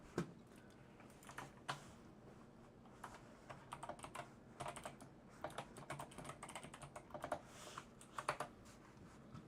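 Typing on an 8-bit retro keyboard produces close, crisp clicks in irregular bursts, with short pauses between runs of keystrokes.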